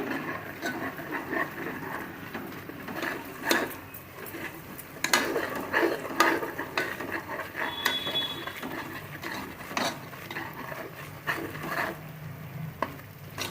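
Ginger garlic paste and masala for a home-style chicken dish frying in a pan, a steady sizzle with intermittent scraping and knocking of a spoon as it is stirred, close and continuous.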